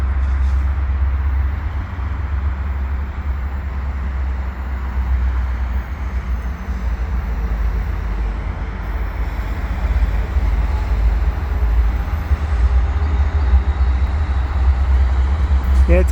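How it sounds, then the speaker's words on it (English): A westbound CN freight train with five engines passes the Atwater Curve in Montreal on a July evening. It makes a constant low, heavy rumble with steady rolling noise that runs throughout. "Sounds like I got a freight train"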